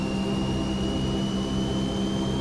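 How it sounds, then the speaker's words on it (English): A Transall C-160 turboprop engine in Microsoft Flight Simulator running at full tilt, a loud continuous roar topped by a piercing, steady high-pitched screech, close by. "That is old school turboprop screech, and I love it."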